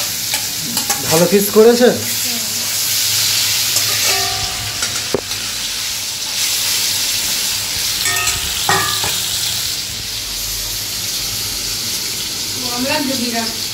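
Fish pieces fry in a wok with a constant loud sizzle and hiss, while voices speak over it at close range.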